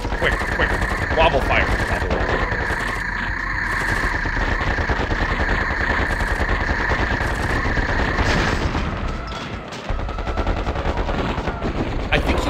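Machine gun fire from the real-time strategy game KKND Xtreme, a dense, continuous rapid rattle with booming hits mixed in. It is loud and close, with a short gap near the end.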